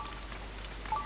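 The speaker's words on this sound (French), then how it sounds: "en plus il pleut. Il pleut, il pleut." Rain patters steadily in Zelda: Tears of the Kingdom, a soft continuous hiss of falling drops with a brief faint chime near the end.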